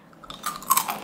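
Someone chews a crispy fried vegetable snack close to the microphone, giving a quick run of crisp crunches over about a second.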